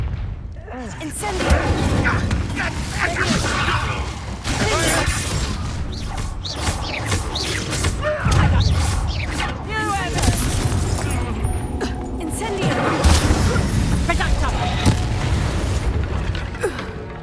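Confringo blasting-spell explosions in the Hogwarts Legacy video game, repeated booming bursts and crashing debris over dense combat noise, with a voice speaking throughout.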